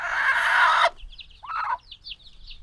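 Country chickens on a farm of 18-day-old birds: a loud burst of dense flock clucking and squawking cuts off abruptly, followed by a short cackle and a string of high peeping chirps.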